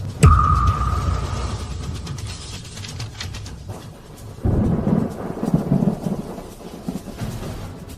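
Typhoon eyewall at sea near a small boat: a sharp thunder crack opens, then heavy rain and rumbling wind roar on, surging louder partway through.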